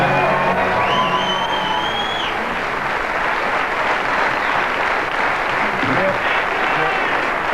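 A big crowd at a footy grand final cheers and applauds in a loud, continuous roar of clapping and shouting, with a whistle cutting through early on, sustained at full strength throughout.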